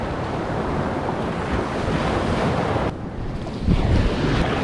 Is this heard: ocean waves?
yes